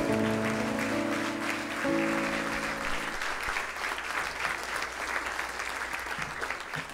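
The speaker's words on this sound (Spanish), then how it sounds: "Te invito a que le demos un fuerte aplauso" A church congregation claps together during a service, a steady wash of applause that starts over a sustained musical chord and continues alone at fairly even loudness.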